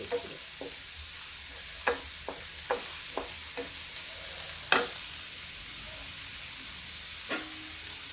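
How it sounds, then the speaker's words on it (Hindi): Onions frying lightly in a small amount of oil hiss with a steady, soft sizzle, broken by several sharp clinks and scrapes of a stirring utensil against the pan. "प्याज को हल्का सा भूनेंगे, नहीं इसकी मिठास नहीं खत्म करेंगे, बहुत हल्का सा।"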